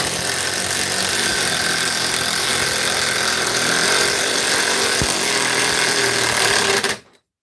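An old, half-drowned brushed DeWalt power tool runs loud and steady with a harsh motor whine for about seven seconds, then cuts off abruptly.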